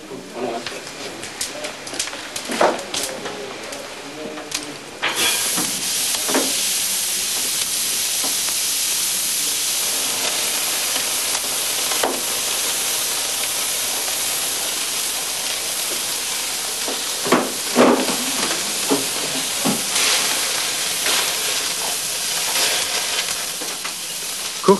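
Meat skewers brushed with spiced oil sizzle on a hot grate over an open fire in a fireplace, first quiet crackles, then a loud continuous frying hiss with occasional pops, with a voice speaking over it.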